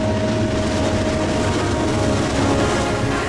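A heavy, continuous rumble with a faint steady whine rolls on without pause as a runaway train grinds along the tracks nearby.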